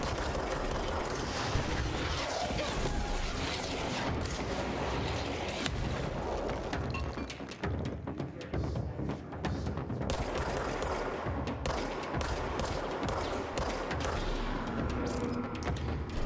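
Rockets and gunfire erupt in a firefight in the video game Control, with rapid bursts of shots and heavy booms layered over a dense, loud, constant clatter of combat.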